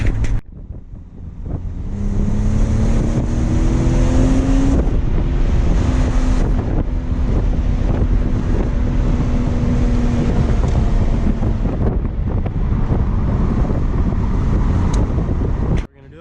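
A car accelerates and drives on, its engine note climbing in pitch and then settling into a steady drone under strong wind buffeting, loud and close from inside the cabin before cutting off at the end.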